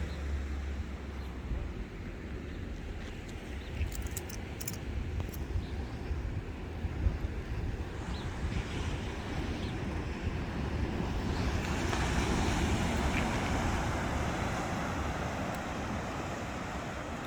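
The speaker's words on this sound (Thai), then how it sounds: "ฟังเสียงคลื่นนะคะ" Steady rush of ocean surf at Santa Cruz with wind blowing across the microphone, the wash swelling a little louder toward the end.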